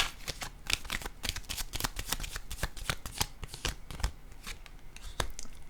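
Tarot cards being shuffled by hand in a steady, close flurry of crisp riffling slaps and papery flicks, continuous and fairly loud throughout.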